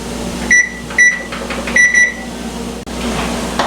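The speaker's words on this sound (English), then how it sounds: "I'll set the timer for 9 minutes" Electronic beeps from a kitchen timer being set while macaroni cooks on the stove, several short, sharp chirps in quick succession over a steady background hum.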